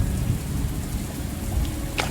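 Steady rain with deep thunder rumble fills a stormy scene in the video game Morels: The Hunt 2, a dense continuous wash near a waterfall with no speech.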